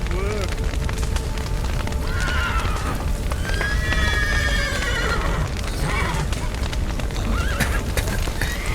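Horses neigh and whinny in the Witcher 3 video game, several loud rising calls amid hoofbeats, rumbling fire and crashing debris, with voices talking over the busy scene.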